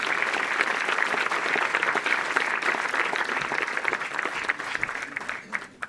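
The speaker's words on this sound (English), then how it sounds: "We can give a big round of applause, please, for Masaki Kuwabara." A big round of applause for Masaki Kuwabara at the Voltcom Crescent Suzuki 2014 team launch, sustained crowd clapping that holds steady, then thins and tapers near the end.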